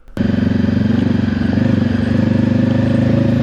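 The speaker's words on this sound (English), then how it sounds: "just pay attention to the sound of the engine" A motorcycle engine revs up close by, holding a loud, steady pulsing drone that strengthens slightly as the throttle opens, with a faint clatter underneath and no one speaking.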